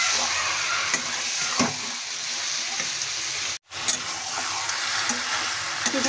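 Marinated chicken being sautéed in a pan for a village-style chicken curry: loud, continuous sizzling with occasional stirring scrapes, broken by a brief dropout before the frying hiss resumes, and no voices.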